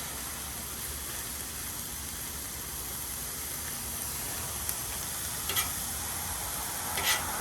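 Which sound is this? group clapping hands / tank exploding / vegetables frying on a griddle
vegetables frying on a griddle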